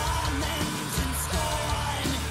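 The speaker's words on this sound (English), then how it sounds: "There's some background screams, kind of bringing it up a little." Background screams and yells inside a rock track, several rising shouts layered over dense, loud instrumentation.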